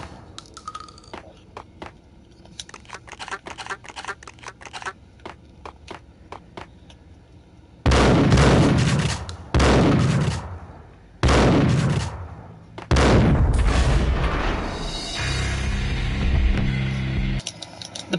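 Gunfire from a Max Payne action game: a string of sharp, loud shots, sparse at first and then turning into heavy bursts of blasts and sustained booming fire with short pauses in between.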